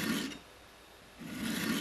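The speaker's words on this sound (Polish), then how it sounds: "Najpierw ostrzymy zęby tnące z jednej strony prowadnicy." A hand file sharpening the cutting teeth of a chainsaw chain gives two quiet, rough rasping strokes separated by a short pause.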